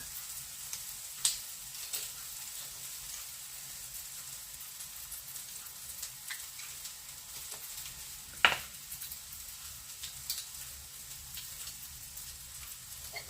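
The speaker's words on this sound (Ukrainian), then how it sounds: "Поки перша партія смажиться" Food sizzles steadily in hot oil, a constant close hiss broken by occasional pops and light clinks.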